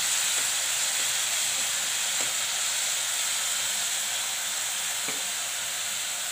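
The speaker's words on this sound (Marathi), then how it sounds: "चांगलं परतून द्यायचं बीट तेलामध्ये।" Beetroot sautéing in hot oil, a steady, even hiss of sizzling throughout with a few faint clicks and taps of a utensil, no voices.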